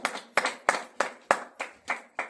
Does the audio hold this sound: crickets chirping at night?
no